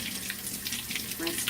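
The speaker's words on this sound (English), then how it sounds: "You just turn on your water" Water runs steadily from a tap into a sink at close range, a continuous hiss and splash with a brief voice partway through.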